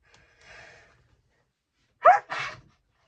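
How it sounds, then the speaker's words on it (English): A single sharp sneeze, close and fairly loud, follows a soft intake of breath and a short pause in an otherwise quiet room. "don't know what made me sneeze"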